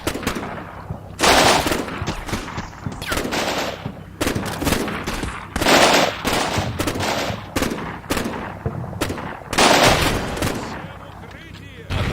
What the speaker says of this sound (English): I'm trying to put as much fire down on those positions in the woods there as possible